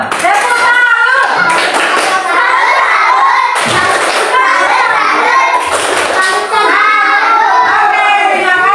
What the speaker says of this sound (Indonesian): kasih tepuk salut dulu. Tepuk salut.